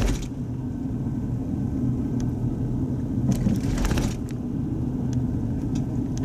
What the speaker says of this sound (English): There's that car.